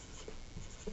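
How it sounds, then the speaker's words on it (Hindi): Brief scratchy strokes of writing on a board or paper during a Class 10 maths lesson, a few faint marks over steady room noise. "तो यहाँ पर हम लिखेंगे"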